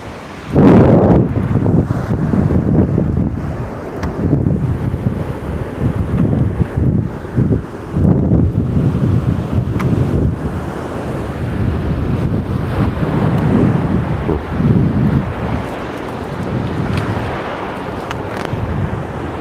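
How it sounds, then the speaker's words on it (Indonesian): Large ocean waves crash on a wide southern beach while strong wind buffets the microphone, a loud continuous roar of surf and gusts with no talk. "Ombaknya lumayan luar biasa ini, besar ya, besar."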